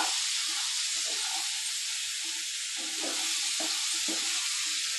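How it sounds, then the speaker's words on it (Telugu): Bottle gourd pieces fry in a hot spiced tempering with a constant, dense sizzle and hiss. Soft scraping and stirring knocks from the spoon run underneath, up close and without any voices. "మన సొరకాయ ముక్కల్ని బాగా వేయించుకోవాలి"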